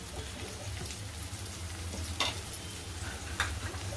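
Onion sizzles with spices in a pan of hot oil, a steady soft frying hiss with occasional brief crackles and a stir or two, close and fairly quiet with no talking.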